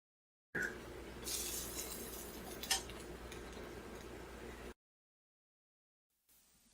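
A knife slices through veggie hot dogs on a board to split them into octopus legs, soft repeated taps and clicks against a quiet kitchen background, ending in silence.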